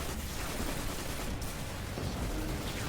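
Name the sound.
auto rifle firing in the Destiny 2 video game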